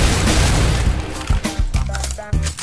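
Rapid gunfire from a video game, a dense, loud volley of shots at the start that breaks into several heavy separate booming reports, with no voices over it.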